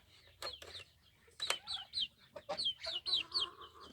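Turkeys just let out of their coop into the yard give a quick run of short, high clucks and chirps, fairly close, with quiet pauses between calls and no talking.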